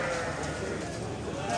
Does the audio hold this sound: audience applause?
no